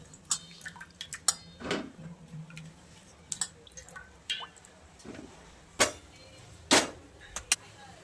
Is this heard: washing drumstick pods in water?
yes